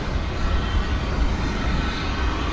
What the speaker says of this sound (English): Here goes the A300 off to Chicago Rockford International Airport.